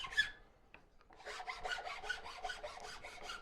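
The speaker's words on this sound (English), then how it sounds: "Just cleaning that out a bit more with a finer rasp." A finer rasp scrapes a carved wooden spoon in a quick run of about eight close, rhythmic strokes, preceded by a few faint knocks and a brief scrape.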